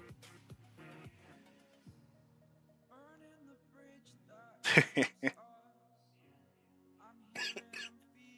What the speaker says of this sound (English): I may be coughing quite a bit through this stream